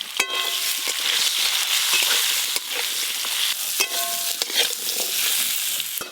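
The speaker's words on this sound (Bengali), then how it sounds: "আলু আর বেগুন হালকা করে নেড়ে নিয়েছি।" Potato and eggplant stir-fried with turmeric, five-spice tempering and dried chilli in a pan, giving a loud continuous sizzle with occasional spatula scrapes and knocks, close up and without speech.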